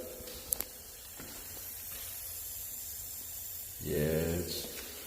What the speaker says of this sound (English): Something's going on with this water softener.